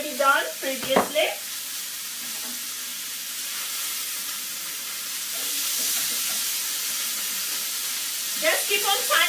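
Steak with pre-cooked carrots stir-frying in a hot pan gives a steady sizzling hiss, with brief bursts of speech at the start and end.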